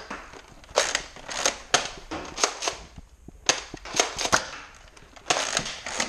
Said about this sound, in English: God, these Nerf guns are so inaccurate these days.